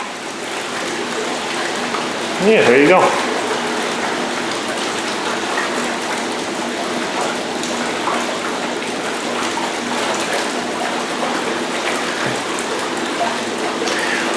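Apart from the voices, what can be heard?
whirlpool tub jets running water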